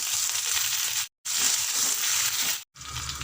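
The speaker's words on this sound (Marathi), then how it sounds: "मेथीची दाणे हिंग कढीपत्ता आणि हे वाटण केलेलं टाकून द्यायचे यामध्ये" Fenugreek seeds, asafoetida, curry leaves and ground paste sizzle loudly in hot oil for a Maharashtrian raw mango curry, a dense steady crackle broken by two brief silences.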